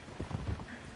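Thoroughbred horse hooves in the video game Red Dead Redemption 2, a soft, quiet clip-clop with a loose trotting rhythm in the low range, heard alone without talk.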